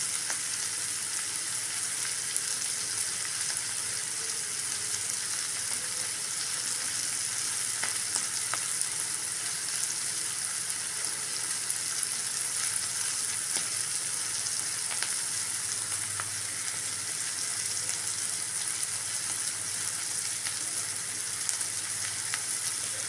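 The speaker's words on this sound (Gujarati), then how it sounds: "મિક્સ કરી અને તેને બેથી પાંચ મિનિટ માટે ચડવા દઈશું" A sambharo of cabbage, carrot, ivy gourd and red chilli cooks in a pan with a soft, even sizzle that holds steady throughout, with no voices.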